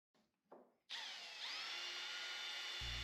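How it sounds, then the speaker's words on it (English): A power drill bores through a wooden hoop backed by a support block, a loud steady whine starting after a couple of brief taps and holding close and continuous to the end. "Using a support block to keep from tearing out the back side, I drilled the 15 holes needed."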